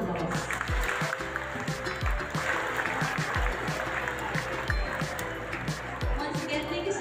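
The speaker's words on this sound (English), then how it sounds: "Let's give each and every one of us a round of applause." Audience clapping fills a hall at a nursing pinning ceremony in Manila, a steady broad wash of applause with a few louder claps near the front, continuing evenly throughout.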